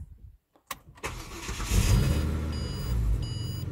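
A 2006 Ford Falcon BF with a newly replaced starter motor cranks briefly and fires up, settling into a close, steady idle, with a faint beep chiming over the engine.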